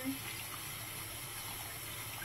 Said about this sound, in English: I've got him in a sink full of water.